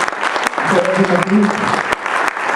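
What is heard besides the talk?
audience applause in auditorium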